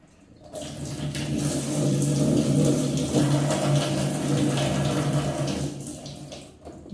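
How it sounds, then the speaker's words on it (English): Water runs strongly from the removed inlet of a slow-filling washing machine, a steady close rush that starts abruptly, holds for several seconds, then cuts off. "we'll remove the water inlet and see how the water flow is."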